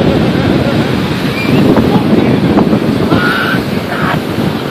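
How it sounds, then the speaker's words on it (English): Ocean waves and wind at the beach in Ocean City, New Jersey roar continuously and loudly, with steady surf wash and wind buffeting the microphone throughout. "Yo, we at the beach. Ocean City, New Jersey."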